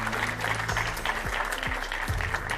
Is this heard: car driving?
no